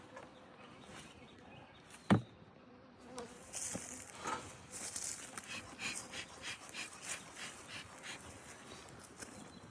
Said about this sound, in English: This is an established hive.